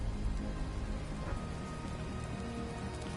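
Steady rain pattering on surfaces in the video game Death Stranding 2, a dense continuous wash of drops with a low rumbling undertone, loud and unbroken throughout.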